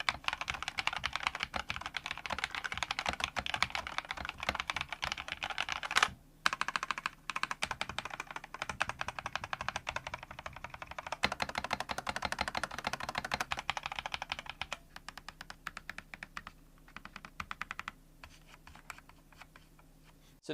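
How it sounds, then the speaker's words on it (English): Keys on a Logitech G Pro X TKL Lightspeed wireless mechanical keyboard with unlubricated switches clatter in fast, continuous typing, close and clear, with two short pauses. "So let's do a typing test on this Logitech G Pro X"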